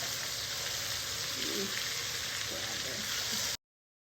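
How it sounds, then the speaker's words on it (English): Meat and tomatoes fry together in a pan for chile verde with Hatch chiles, giving a steady, moderately faint hiss of sizzling that cuts off abruptly near the end, with no talk. "I'm just going to add in the tomatoes with the meat just so it can fry up a little bit"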